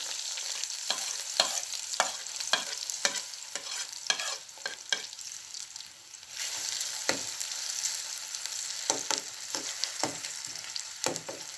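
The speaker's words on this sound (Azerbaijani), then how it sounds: "Yağda qəşəng qoğuracağıq." Chopped potatoes fry in hot oil, giving a steady crackling sizzle broken by repeated sharp scrapes and clacks of stirring, close up and with no voices.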